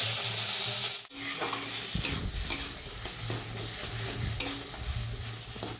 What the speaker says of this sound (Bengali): এইভাবে আমি 5 থেকে 6 মিনিট কড়াইতে নাড়াচাড়া করে নেব